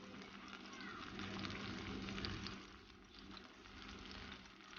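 An egg pizza with finely chopped green chillies fries in a pan, a steady, soft, continuous sizzle heard close up that swells slightly, then settles.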